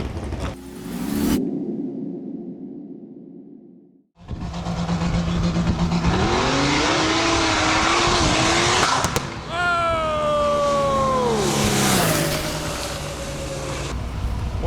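A Duramax diesel-powered Chevrolet Colorado drag racing truck at the Lights Out event roars loudly through a sustained run, its engine note rising and falling with shifts, amid crowd noise and commentary voices.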